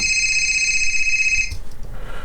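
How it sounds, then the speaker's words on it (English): A mobile phone ringtone used as an editing sound effect, a loud, steady electronic ring heard alone for about a second and a half before it cuts off abruptly. "So his phone rings."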